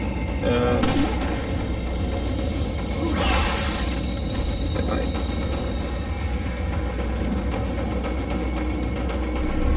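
Gunfire in Resident Evil 4 cracks out in a few sharp shots over a constant rumbling game backdrop, mixed with someone talking.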